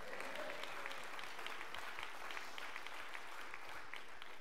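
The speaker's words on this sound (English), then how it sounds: "Clap your hands and say amen." A church congregation claps hands together in sustained, dense applause, steady and fairly even across the whole stretch with a faint voice briefly audible underneath.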